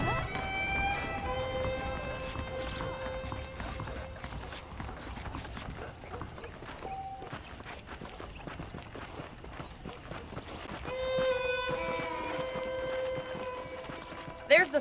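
Horse hooves beat rapidly in a steady galloping rhythm in Red Dead Redemption, mixed with voices and musical tones in the background.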